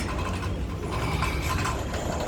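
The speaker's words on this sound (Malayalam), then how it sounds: "അപ്പം നമുക്ക് ഈ ബോൾട്ട് ഇടാം. എത്ര സ്പാനർ പിടിക്കുന്നത്?" A spanner works a bolt on a truck outdoors in the sun, giving a steady, close mechanical clattering and ratcheting rattle throughout.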